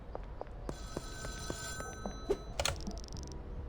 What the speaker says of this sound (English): Payphone.